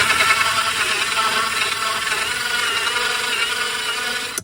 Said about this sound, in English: I'm starting forward just to get the hole going until it makes contact.